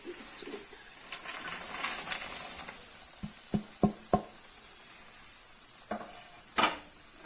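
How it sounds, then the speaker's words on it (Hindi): Dry fruits are stirred into cooked dates in a pan off the heat, giving soft fading sizzle, scraping stirs and several sharp spoon knocks against the metal pan, heard close with no talk. "मैं अब चूल्हा बंद करती हूँ और इसमें ये सारे जो है ना ड्राई फ्रूट ये सारे शामिल करती हूँ"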